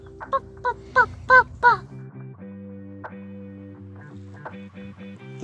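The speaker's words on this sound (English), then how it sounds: "Chickens! What noise do they make?" Farmyard chickens near a path outside Arnside in Cumbria give a run of five short, clucking calls close by, then fade under a steady, low background hum with a few softer calls near the end.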